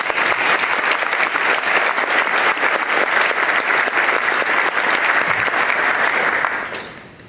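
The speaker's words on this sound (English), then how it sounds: "Let's give him a round of applause." A large audience applauds loudly and steadily during an opening keynote at a technology conference, the dense clapping holding level for several seconds before fading out quickly at the end.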